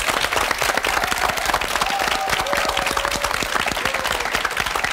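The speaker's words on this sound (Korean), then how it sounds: "큰 박수 한번 부탁드립니다" An audience gives loud, dense applause for several seconds, with continuous rapid clapping from many hands.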